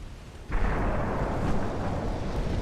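A torpedo strikes a warship in the naval video game Ultimate Admiral: Dreadnoughts: a quiet lull breaks into a sudden heavy blast, followed by a deep, rolling rumble that stays loud until the end.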